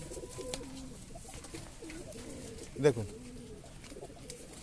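Kalshera Giribaz pigeons make faint, soft sounds against a quiet outdoor background, with one brief louder burst midway; a voice speaks briefly.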